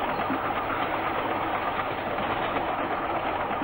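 A train rolls along with a steady, muffled rumble and rhythmic mechanical churning, unbroken and fairly close, with no talking.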